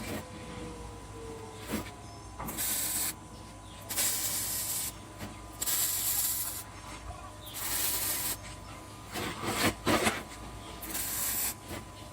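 Bursts of spray paint hiss in repeated passes over a smoker grill frame, each lasting about a second with pauses between, steady and fairly close over a low background hum.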